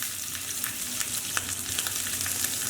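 Lamb shanks browning in a hot pan give a steady, close crackling sizzle with scattered pops and no talk.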